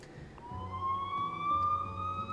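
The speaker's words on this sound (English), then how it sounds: "Y'all hear sirens?" A video game siren wails faintly in the distance, its pitch gliding slowly upward over a low rumble of background noise.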